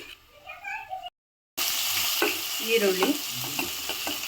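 Whole cinnamon, cloves and cardamom sizzle in two spoons of hot oil in a pan, a steady close frying hiss with soft stirring clicks, briefly preceded by a voice and a short silent gap.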